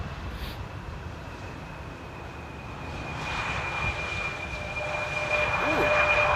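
KLM and Neos airliners landing at Amsterdam Airport, a steady distant jet roar that slowly swells louder over several seconds with faint outdoor background.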